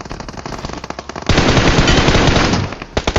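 Loud, rapid automatic gunfire during a video game battle royale match, bursts of shots leading into a sustained dense barrage, then a few separate shots at the end, with no talking.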